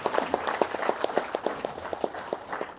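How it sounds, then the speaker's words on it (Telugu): An audience at a meditation stage event applauds with a run of sharp, evenly spaced claps, moderately loud and sustained across the whole moment. "గట్టిగా చప్పట్లు కొడదాం ధ్యాన విద్యార్థి మహాచక్రానికి"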